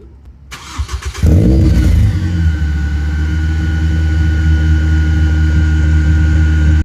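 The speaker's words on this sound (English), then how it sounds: "But this is the first start up." Car engine starting for the first time after a cheap exhaust upgrade, a short cranking then a loud catch and a steady close idle rumble.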